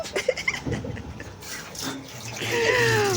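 A kitchen tap runs while hands are washed during home cooking, a steady close splashing rush of water with a brief whistly tone toward the end and no clear speech.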